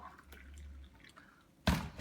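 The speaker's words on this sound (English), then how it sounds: "what I like to do is to just pour the water into the cup." Just-boiled water poured from a kettle into a cup while brewing with an AeroPress coffee maker, a short burst of pouring and splashing entering loudly near the end after quieter room sound.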